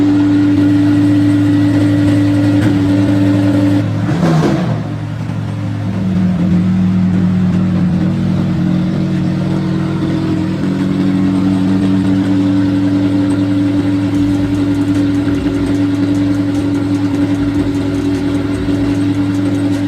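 A McLaren 720S engine runs without its exhaust installed, a steady, deep, raw droning hum with a brief dip partway through, loud and close throughout, with no voices.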